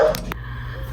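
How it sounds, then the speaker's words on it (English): A dog barks a couple of short times from another room during a quiet moment at home, brief and mid-distance with no talking over it. "I had to go see what Jack was barking at"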